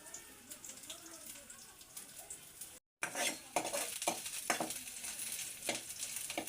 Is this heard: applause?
no